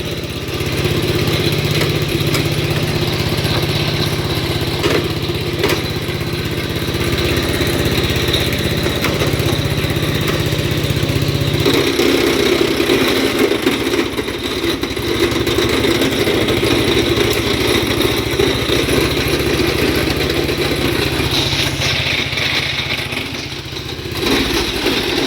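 Old 1967 Gravely 430 walk-behind tractor, left sitting outside for years, runs continuously with a loud, close, steady engine drone and mechanical clatter, its pitch shifting slightly partway through; no talking.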